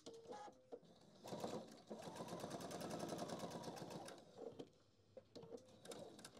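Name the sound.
sewing machine stitching a handbag organiser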